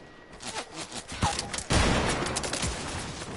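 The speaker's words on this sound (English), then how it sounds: "start shooting the base" Rapid bursts of video game gunfire during a multiplayer base attack, loud and sustained, with a heavy volley erupting midway and continuing to the end.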